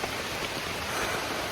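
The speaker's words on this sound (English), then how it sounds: "it's raining. It's raining pretty good." Steady rain falling on a surface at a primitive campsite in Monte Sano State Park, a dense even patter with no pauses, moderately loud and close.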